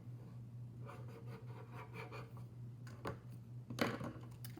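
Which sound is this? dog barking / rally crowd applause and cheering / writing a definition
writing a definition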